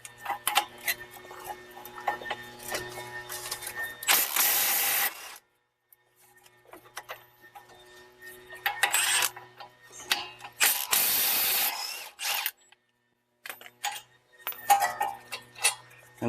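A ratchet wrench clicks rapidly in several bursts while loosening 21 mm caliper bracket bolts on a Chrysler Town and Country minivan, close and crisp with short pauses between runs.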